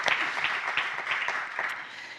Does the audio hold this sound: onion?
no